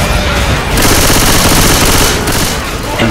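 Gunfire in the zombie shooter Left 4 Dead 2 during a Dark Carnival horde fight, with loud, continuous automatic fire rattling without pause from start to finish and voices mixed into the din.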